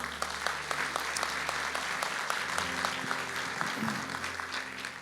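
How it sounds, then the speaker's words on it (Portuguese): A church congregation at a Feast of Tabernacles service claps for the Lord, steady overlapping applause with distinct sharp claps over a low hum from the hall, continuing unbroken. "Você pode dar uma aplauso ao Senhor?"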